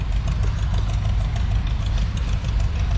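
An Allis-Chalmers AC 210 tractor engine idling at the 2023 Miami Valley Steam Threshers Association show in Plain City, Ohio, a loud, steady, close rumble with an even mechanical chug throughout.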